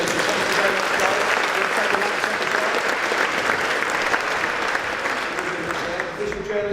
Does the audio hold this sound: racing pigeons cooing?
no